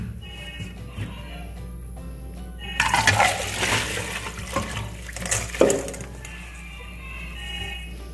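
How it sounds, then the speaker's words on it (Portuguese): Water pours and splashes as it drains from a jar of chili peppers being preserved, a burst of irregular running and trickling over a steady background hum. "Agora vou escorrer essa água."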